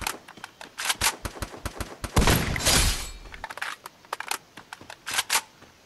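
Rapid gunfire from Free Fire, the battle royale video game, with a long loud burst in the middle and scattered single shots and short volleys before and after, close and sharp, no talking.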